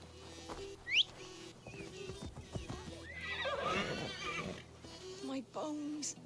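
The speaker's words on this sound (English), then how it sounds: "Call my horse as soon as I get over this" A horse in the Assassin's Creed video game whinnies loudly and its hooves clop, along with scattered in-game noises and speech-like vocal sounds, all fairly quiet and close.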